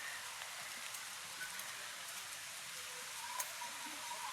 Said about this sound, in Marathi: बघा पाऊस कसा चालू आहे